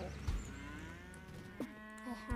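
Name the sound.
cow mooing in the video game Wobbly Life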